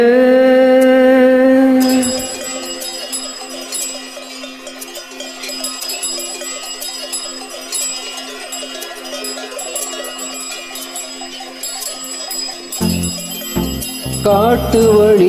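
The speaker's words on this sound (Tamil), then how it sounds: "காட்டு வழி காளைங்க கழுத்து மணி கேட்கையிலே" Bull neck bells clang and jingle continuously in an irregular rhythm, close by, over a steady background, with a deeper bell hit near the end.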